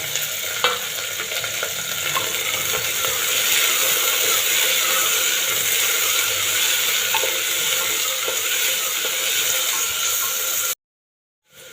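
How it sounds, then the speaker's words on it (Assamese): Onion, green chilli, peas and carrot frying in a pan for pea pulao, a steady, close hiss of sizzling oil with stirring scrapes throughout, then cut off abruptly just before the end. "পিঁয়াজ, জলকীয়া আৰু মটৰ গাজৰখিনিও দি দিলোঁ। অলপ ভাজিব লাগিব, ভুনিব লাগিব।"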